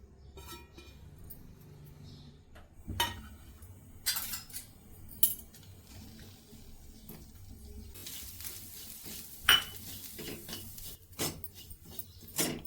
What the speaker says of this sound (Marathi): आपण पहिल्यांदा हे सुके मेवे आणि खोबरं आहे तर ते भाजून घ्यायचं आहे